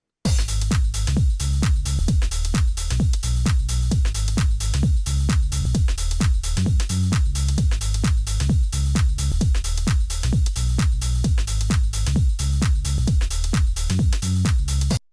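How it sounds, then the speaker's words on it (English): Loud, deep synth bass pulses pounding under a steady electronic beat with punchy kicks, continuous and dense throughout. "proper deep bass slamming just does the trick of a nice low sub"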